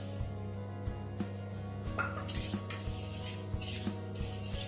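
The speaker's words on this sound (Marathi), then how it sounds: "आपण हे तीळ गरम करून घेऊया बारीक गॅसवरती।" Sesame seeds roast in a hot kadhai over a low gas flame, with soft sizzling under repeated scraping strokes and light metallic clinks of a spoon against the pan at a steady stirring rhythm.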